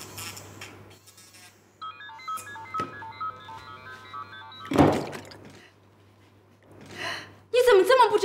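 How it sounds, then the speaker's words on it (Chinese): An electronic phone ringtone plays as a repeating pulsed tone for a few seconds in a TV drama scene, followed by a thud and a gasp, with people talking around it. "电话响。"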